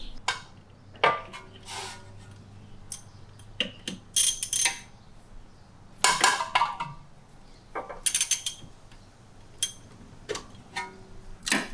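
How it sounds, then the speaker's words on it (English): A strut spreader tool spreading an Audi C7 fork apart makes irregular metallic clicks, ratcheting ticks and clanks, close and sharp, separated by quiet gaps. "We're gonna use a strut spreader."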